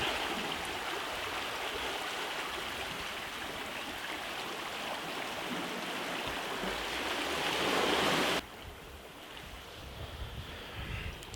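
Ocean waves wash against the rocky shore below the cliffs of De Kelders, Gansbaai, a steady, loud roar of surf and wind that swells, then drops suddenly to a softer rush near the end.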